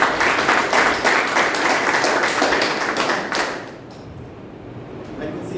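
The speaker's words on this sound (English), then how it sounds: "A big round of applause for" An audience at a Toastmasters club meeting claps for a few seconds, dense overlapping applause that stays loud and then drops off abruptly, leaving a quieter room with a few scattered claps.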